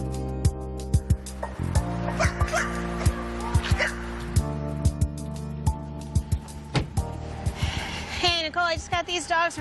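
Rescued emaciated, underweight dogs found running loose near Folly Beach bark sharply in repeated bursts, then whimper and yip in a high, wavering run near the end, close and loud, with people speaking over them.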